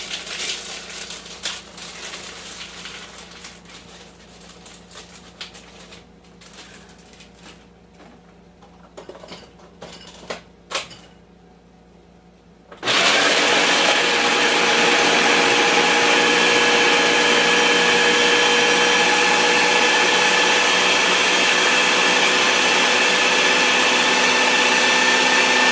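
Food processor chopping frozen cranberries and orange for relish: a few seconds of quiet clinking and handling, then the motor kicks in with a loud, steady whirring grind that continues to the end.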